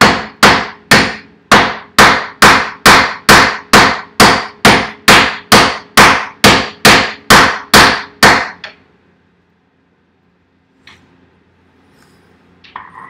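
About nineteen loud hammer blows in a steady, even rhythm, each a sharp metallic strike on a BMW Z3 subframe being fitted, then they stop, leaving faint clatter and quiet.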